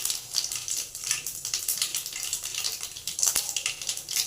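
Tempering spices, the popu for an idli tomato chutney, crackle in hot oil. Close, busy sputtering pops come in quick irregular bursts with one louder snap.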